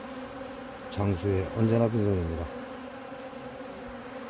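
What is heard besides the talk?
hornets swarming at open-air bee feeding spot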